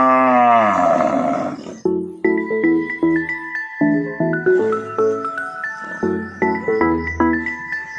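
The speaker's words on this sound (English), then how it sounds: "we have some cows over here" A cow on a farm in Ronda, Cebu gives one long, loud, close moo, which gives way to a plucked melodic music track for the rest of the stretch.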